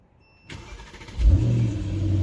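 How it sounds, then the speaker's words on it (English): Brief electronic chime, then a starter cranks and a Mercedes W213 engine catches, rising to a loud rev before settling into a steady idle. "Car started up perfectly fine. Started up nice and loud"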